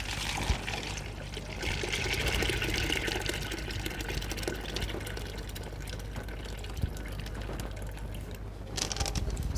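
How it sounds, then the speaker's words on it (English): Water is poured steadily away from a cooking pot in an outdoor village kitchen, a continuous close splashing flow lasting throughout at moderate volume. "you immediately pour the water away"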